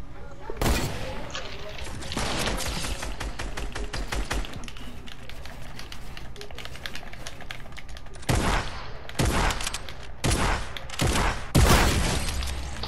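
Rapid gunfire from a shooter video game comes in sharp bursts and single cracks, loud and close, with quieter stretches between volleys and a voice talking faintly underneath.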